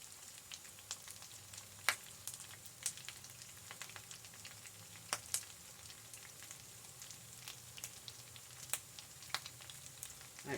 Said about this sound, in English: I love to hear the sound of cheesy grits cooking